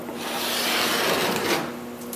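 A scraper drags across softened old paint on the wooden hull of a 1937 20-foot Lyman Eagle boat after Circa 1850 remover has been applied, one continuous close rasping stroke of about two seconds.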